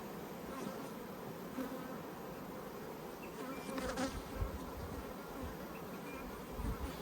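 Honey bees buzzing on a hive frame, a dense, steady drone of many insects up close, with individual bees swelling louder as they pass near.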